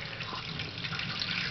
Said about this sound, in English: now you can see that it's almost like a real industrial sink going on here with excellent water pressure